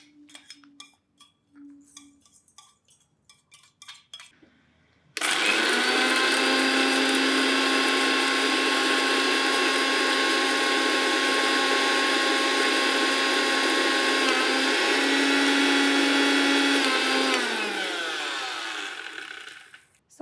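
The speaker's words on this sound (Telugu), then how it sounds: "వీటిని మిక్సీలో వేసేసుకుంటే ఓకే మ్యామ్ మేడం వేసేయండి మేడం మిక్సీ పట్టుకుందాం" A mixer grinder whirs loudly and steadily as it grinds lightly fried ingredients into a coarse powder for a weight-loss tea. A few quiet seconds pass, then the motor runs with a continuous high whine for about twelve seconds before winding down.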